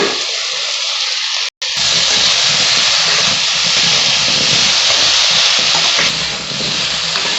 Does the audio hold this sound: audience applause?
no